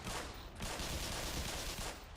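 Gunfire rattles in the video game Black Mesa, a dense continuous burst of rapid shots at close range with no talk over it.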